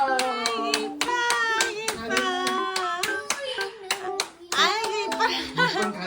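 Quick rhythmic hand claps, sharp and close, repeated in a steady run while a child and an adult talk and sing over them.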